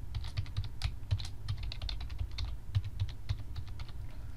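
Rapid, steady keystrokes on a computer keyboard as a password is entered, close and moderately loud, with no talking.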